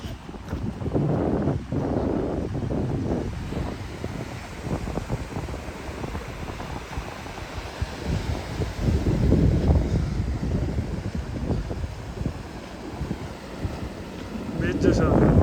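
Wind and surf at Ongole beach at night, a loud continuous roar of gusting wind buffeting the microphone over the low wash of waves, with voices talking now and then.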